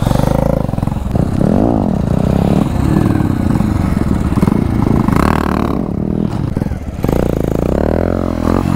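A motorcycle engine revs hard and loud during wheelie training, with rising and falling throttle surges, a brief dip midway, and some clattering over the continuous roar.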